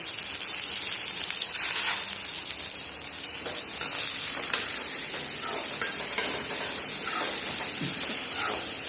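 Onions, green chillies and curry leaves sauté in a hot pan for potato masala with a steady, crackling sizzle, broken by occasional scraping stirs, close up and without talk.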